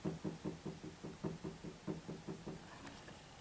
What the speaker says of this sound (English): There is a little tap.